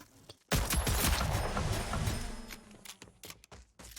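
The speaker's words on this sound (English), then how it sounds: "Shotgun." Shotgun fire in the video game Rogue Company: a loud blast and chaotic burst of gunfire that decays over a couple of seconds, followed by a few sharper scattered shots.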